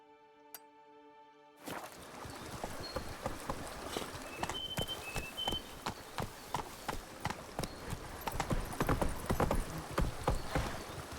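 Roach the horse's hooves clip-clop in The Witcher 3, a steady run of distinct hoof strikes starting after a short musical tone, with a few bright chimes over the trotting rhythm; no voices.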